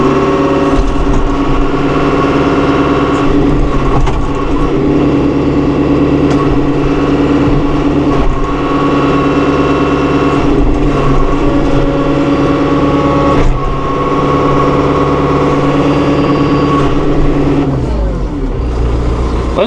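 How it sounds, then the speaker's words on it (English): A 2016 John Deere 5100E utility tractor, 100 hp diesel, runs at a steady loud drone as its throttle is raised, the engine noise continuous and close throughout with a brief dip near the end. "We'll just run up the throttle here a little bit."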